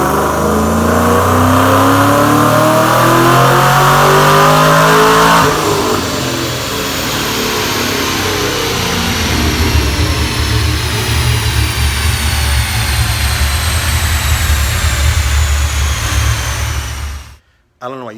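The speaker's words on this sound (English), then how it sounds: "Let's make a dyno pull and see what kind of power this car makes." A loud 2007 Mustang GT 3-valve engine with a Vortech supercharger revs hard on a dyno pull, climbing steadily in pitch, then drops off and roars on at high load before cutting out abruptly near the end.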